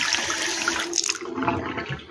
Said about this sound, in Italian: Non rimane quindi che riaprire l'acqua e fare una prova per vedere se la perdita è stata eliminata